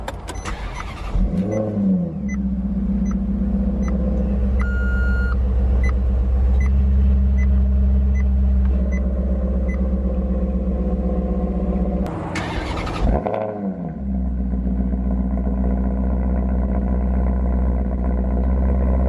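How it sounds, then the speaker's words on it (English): Maserati GranTurismo MC engine rumbling steadily from inside the car, heard close and loud throughout, with a rev swell and sharp throttle blips near the start and again around the middle. "So we're in the Maserati GranTurismo MC."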